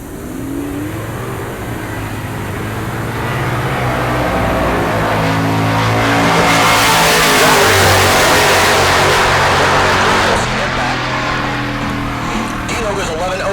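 Mustang drag race car at a drag strip, its engine swelling into a loud roar as it accelerates and passes, then easing off, with an announcer's voice talking over it.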